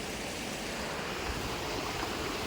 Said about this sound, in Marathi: पाण्याचा प्रवाह बघा असं असतं.